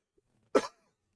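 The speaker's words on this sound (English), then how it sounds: "Sorry about this cough." A single short, sharp cough bursts out close to the mic, with a brief rough tail, in an otherwise quiet room during a sermon-style talk.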